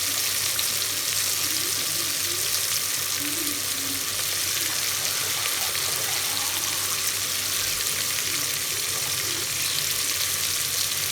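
Water poured into a pot of sizzling chicken and tomatoes for black pepper biryani, a steady hiss and bubbling sizzle that runs on throughout, moderately loud and close.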